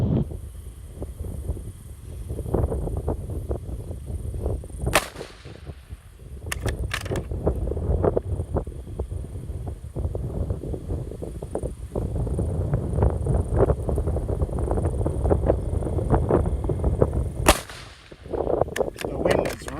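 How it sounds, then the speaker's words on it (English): Strong wind buffeting the microphone outdoors at a rifle range, a constant low roaring rumble throughout with a couple of sharp cracks standing out. "The wind has really picked up"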